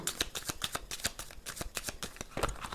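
A tarot deck is cut and shuffled up close, producing a quick run of crisp, papery card flicks and riffles that stay quiet and steady throughout.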